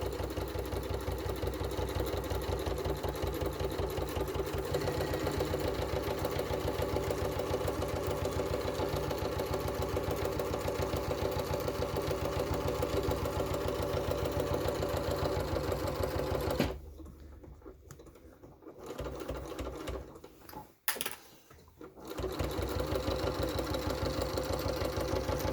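A sewing machine runs steadily as it stitches fabric for a multipurpose storage organiser, a fast, even mechanical whir close by that stops abruptly, leaving a short quiet gap before the motor resumes.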